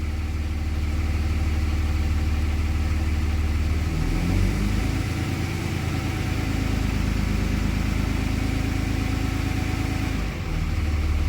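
A freshly HO-swapped Cummins diesel engine runs on its first fire, a steady close rumbling idle with a brief rev partway through and a small dip near the end, fairly quiet for a diesel.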